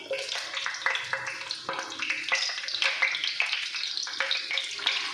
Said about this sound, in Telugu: ఇప్పుడు మనం ఇందులో కట్ చేసి ఉంచుకున్న పచ్చిమిర్చి వేసుకుందాం